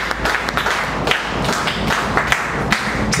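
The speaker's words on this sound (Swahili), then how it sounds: "Mbele tena makofi utukufu." A congregation at a church worship service claps and applauds in a dense, continuous burst, with sharp hand claps and thuds close by.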